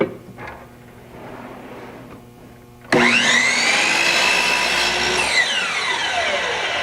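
A power saw trims a piece of wood: after a few seconds of quiet room noise, the blade suddenly spins up to a loud, steady whine, cuts briefly, then begins winding down.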